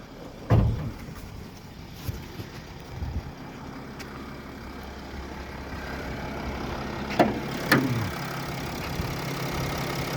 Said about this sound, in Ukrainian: Хто хоче послухати, як робить 200-тисячний мотор, то от вам є весь шанс